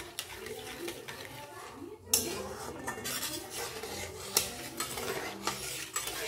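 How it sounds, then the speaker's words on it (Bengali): Milk thickened with sugar stirred continuously in a pan, spoon scraping and clinking against the metal in steady strokes, close and moderately loud, with a sharp knock near the start. "চিনি দিয়ে নাড়তে থাকবো এইভাবে, যাতে নিচে বসে না যায়।"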